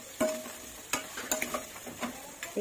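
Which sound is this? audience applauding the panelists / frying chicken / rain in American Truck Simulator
frying chicken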